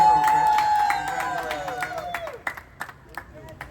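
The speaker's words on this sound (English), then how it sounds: "So, round of applause." Crowd clapping and applause at a basic training graduation gathering for new airmen. A sustained voice or tone runs under the claps and fades out partway, leaving scattered, thinning claps.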